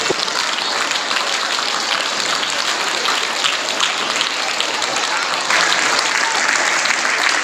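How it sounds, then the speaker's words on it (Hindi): Sustained loud applause from an audience after a student's Republic Day speech at a school event, a continuous crackle of many hands clapping that grows slightly stronger toward the end. "जोरदार तालियां"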